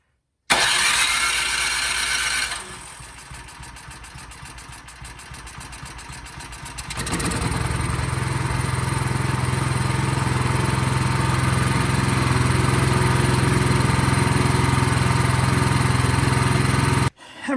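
A Craftsman snowblower's small engine cranks for a couple of seconds with the choke on, sputters, then catches and settles into a steady loud running drone close by, with no talking.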